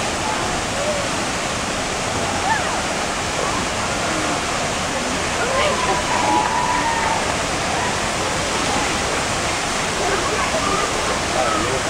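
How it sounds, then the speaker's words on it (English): A waterfall at Looking Glass Falls roars as a steady, broadband wash of falling water that fills the scene without a break, close and loud throughout. "Here's Looking Glass Falls."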